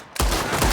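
Gunfire erupts in the video game Red Dead Redemption 2, a sudden loud, close burst of shots that cuts in sharply and rings on.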